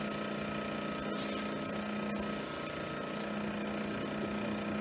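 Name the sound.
sanding a wooden ornament on a lathe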